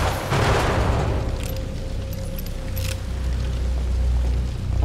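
A gunshot in the survival horror video game The Evil Within: a broad booming blast near the start, then a lingering low rumble and steady tone with a few faint clicks, heard alone without speech.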